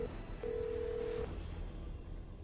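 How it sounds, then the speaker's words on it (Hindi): A short electronic beep, then a longer steady phone tone from an office phone, over a low background hum; no one speaks. "उसके जाते ही खावला ने ऑफिस के फोन से ही रॉबिन को कॉल लगाई"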